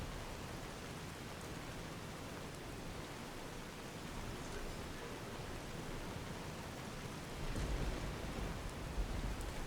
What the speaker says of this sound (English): I'm going to wait for the rain to stop now that you've seen it.